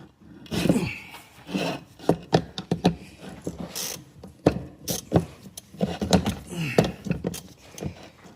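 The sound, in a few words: ratchet with 3/8 socket removing bolts on lawn mower PTO clutch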